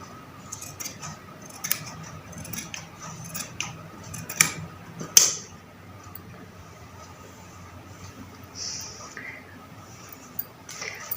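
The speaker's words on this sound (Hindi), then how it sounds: "अब आपने यहाँ से कैंची को स्टार्ट करना है" Scissors cut through kurti fabric in intermittent snips and crisp crunches, with a sharp louder snip midway and quieter fabric rustling between cuts.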